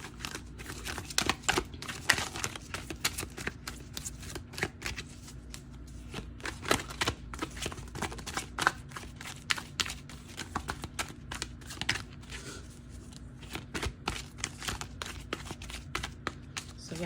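Tarot cards shuffled by hand, a steady run of quick riffling slaps and soft papery flicks, close up, with no voices.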